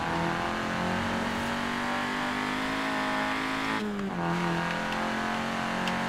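A Peugeot 205 rally car in Forza Horizon 4 holds a loud, sustained engine drone with steady harmonics, briefly dipping and shifting pitch near the end as if changing gear.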